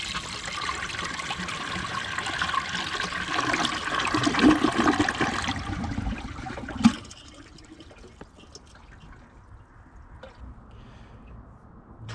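A 1985 American Standard Plebe toilet flushes with a loud rushing swirl for about six seconds, ends in a sharp gurgle, then settles into a quiet trickle and drips as the tank refills.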